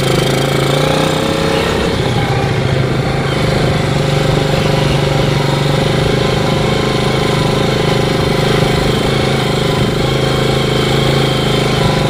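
A Yamaha Moto4 ATV engine runs steadily and loudly while being ridden, a close, continuous choppy drone with a strong low hum that never drops off.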